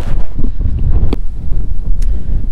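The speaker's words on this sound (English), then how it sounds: "up to 50 mile hour gusts of wind today, but it seems to be a lot more than that" Strong gusty wind at West Beach, Littlehampton, with gusts up to 50 mph, roars and buffets the microphone in a continuous low rumble with no voices.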